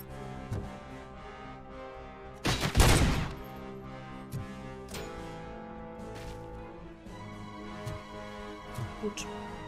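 A mounted machine gun fires in RoboCop: Rogue City, one loud dense burst of rapid shots that cuts through steady game music and ambience.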